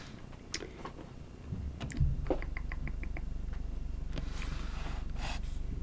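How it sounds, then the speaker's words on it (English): A pet cat indoors, with soft snorts, a purr and a short run of ticking clicks, close up and otherwise quiet. "My kitty is distracting me. We might be invaded by a kitty."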